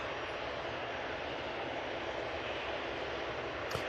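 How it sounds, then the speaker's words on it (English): A Loganair plane coming in from the Isle of Man to land at Manchester Airport makes a steady, broad engine roar heard from a distance, holding an even level throughout with no voices. "Logan Air just about to touch down from the Isle of Man."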